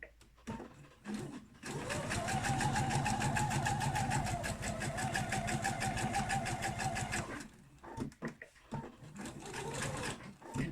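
A sewing machine back-stitches a homemade fabric face mask, running in one long, loud, steady whir for several seconds, with brief stops and handling noises at either end.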